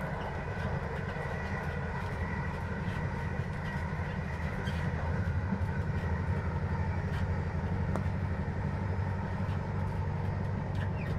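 A train rolls along steadily in the video game Pizza Spy, a continuous rumbling clatter of rail wheels and carriage noise that holds at an even level throughout.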